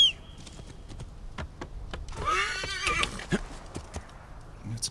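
A horse whinnies loudly in Assassin's Creed Origins, a long shrill neigh rising out of faint game ambience, with sharp clip-clop hoof clicks and taps scattered before and after.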